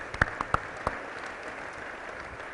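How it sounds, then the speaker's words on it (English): A few sharp, separate claps ring out, then soften into a faint, distant wash of applause from the crowd at a city mayor's State of the City address. "we need to give them a round of applause as well."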